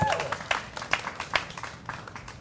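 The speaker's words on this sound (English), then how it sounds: "Let's just give them a praise clap for this big step in their lives." Wedding guests applauding the couple at the ceremony, a lively burst of clapping with distinct sharp claps standing out, tapering off toward the end.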